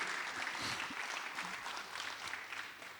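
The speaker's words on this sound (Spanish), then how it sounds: "denle un aplauso al Señor" A church congregation applauds together during a sermon, a sustained wash of clapping heard at moderate distance, easing off toward the end.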